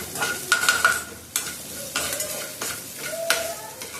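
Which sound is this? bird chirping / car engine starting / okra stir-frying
okra stir-frying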